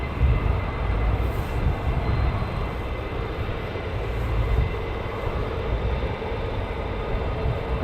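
A small military jet departing at RAF Lakenheath, a loud continuous engine roar and rumble that holds steady with slight swells, heard alone without talk.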